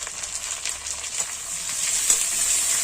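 Ridge gourd pieces land on fried potatoes in a hot pan and sizzle with a steady, bright hiss, a few faint stirring taps rising from it close up.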